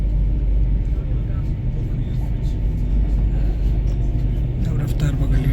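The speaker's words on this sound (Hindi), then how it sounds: "अब रफ्तार पकड़ ली ट्रेन ने फिर से" A Fuxing Hao bullet train running between Shanghai and Beijing picks up speed, with a deep continuous rumble and hum heard from inside the carriage while someone talks over it.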